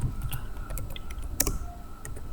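Rapid clicking keystrokes on a computer keyboard while C++ code is typed, an uneven close-up patter of taps with one sharper click, no talk.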